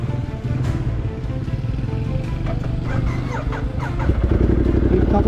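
A motorcycle engine hums steadily while riding a mountain road through Salacsac Pass in San Nicolas, Pangasinan, close and loud, with wind rumble and a brief clatter, rising slightly toward the end.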